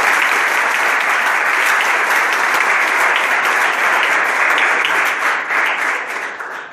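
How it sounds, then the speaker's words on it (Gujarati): A large audience applauds continuously, a dense and steady wash of many hands clapping that stays loud throughout and eases slightly toward the end. "આપણે તાળીઓના ગ્રહકારથી વધાવી"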